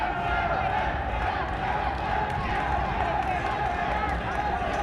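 A crowd at a wrestling show roars steadily for the referee, a dense continuous wall of cheering with scattered shouts and no clear break.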